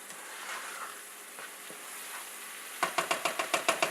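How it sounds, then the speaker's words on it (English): Gizzard fries in a pan for a Nigerian gizzard and plantain sauce, giving a steady close sizzle that turns near the end into a quick run of rhythmic scraping stirs, with no voices. "I'm gonna fry this to an inch of its life."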